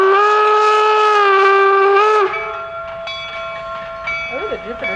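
A steam locomotive at Promontory's Golden Spike 150 event, a replica of the Jupiter, sounds a loud, sustained multi-tone whistle for about two seconds, then rolls on with a steady mechanical hum and softer chuffing and clanks close by.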